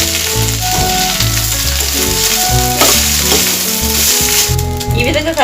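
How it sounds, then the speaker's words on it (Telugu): Rice with salt being stirred and mixed in a hot pan for jeera rice, a loud steady sizzle close by, heard under background music with no talk. "సాల్ట్ వేసుకొని బాగా కలుపుకోవాలి."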